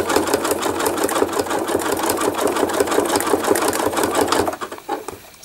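A sewing machine rapidly stitches free-motion embroidery thread art, giving a loud, fast mechanical chatter that runs steadily and then slows and stops near the end.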